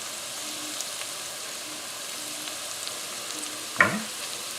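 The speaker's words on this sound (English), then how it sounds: "onions and fennel are cooking nicely" Onions and fennel fry quietly in a pan with a soft, steady sizzle, and a brief louder clatter of stirring comes near the end.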